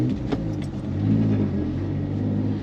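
A turbo Suzuki Carry mini truck fitted with a new exhaust gives a close, steady, throaty rumble that swells slightly mid-way, with no talking over it.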